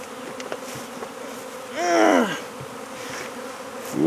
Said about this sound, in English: bees all over me